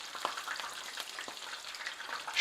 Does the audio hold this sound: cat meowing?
no